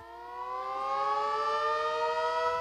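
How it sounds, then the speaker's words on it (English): A civil defense siren in the village of Vadgaon in southern India, sounded every evening at 7 p.m. to mark the start of a curfew. A steady, loud, harmonic wail holds throughout, slowly swelling, with no voices. "Every evening at 7 p.m., this siren signals the start of an unusual new curfew"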